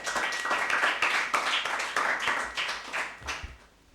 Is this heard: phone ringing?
no